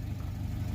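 A car engine hums steadily and low at moderate distance on a street, a brief, even rumble with no clear rise or fall.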